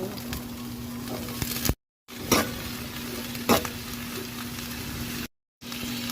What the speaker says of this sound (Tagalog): Sutay the garlic and the onion. Lagay ko na si sitaw.